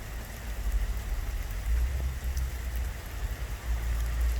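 Light rain patters steadily outdoors, a dense hiss of raindrops over a low rumbling background that holds evenly throughout.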